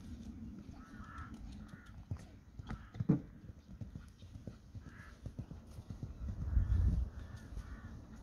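A pony cantering during one-day-event schooling, its hoofbeats thudding in a steady, fairly close rhythm on ground, with crows cawing in the background and a voice briefly heard.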